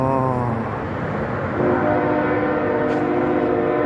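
A freight train rumbles past an old abandoned railroad spur bridge, a loud continuous roar with droning horn-like tones that shift partway through, heard alone without talk.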